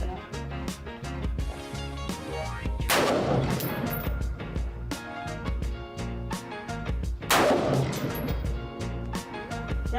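At an outdoor shooting range a shoulder-fired gun goes off in two sharp, loud cracks about four seconds apart, each followed by a short echoing decay over a busy background.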